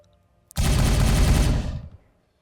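A loud burst of sustained automatic gunfire in the Warhammer 40K Regicide video game opens after a faint tick, rattles steadily for about a second, then cuts off and rings out briefly. No voices are heard.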